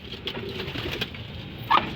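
Pigeons coo softly and continuously nearby, a low throaty murmur with a brief louder flutter near the end.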